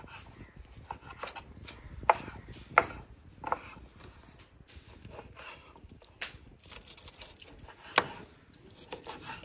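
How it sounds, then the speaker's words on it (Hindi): A knife chops goat hearts on a board in a kitchen, giving sparse, irregular sharp knocks, some louder than others, at close range. "इसको इस तरीके से हम कटिंग कर लेंगे, छोटी मोटी बना लेंगे"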